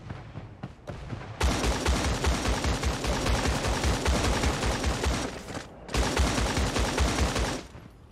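Rapid automatic gunfire in the video game Creative Destruction, sustained dense bursts with a brief pause in the middle, loud and continuous with no voices over it.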